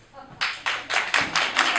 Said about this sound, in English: please clap if you just wandered in off the street randomly.